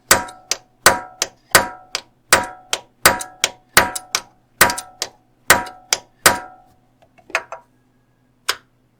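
Metal tool striking a collapsed engine lifter on a Chevrolet with AFM/DOD, a steady series of sharp ringing clangs at about two per second, close and loud, then a few sparse taps.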